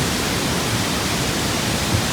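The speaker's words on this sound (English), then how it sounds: "Nice waterfalls." Waterfalls along the hiking trail to Lake Agnes, a steady, dense rushing roar of falling water filling the whole clip at constant loudness, with no talk.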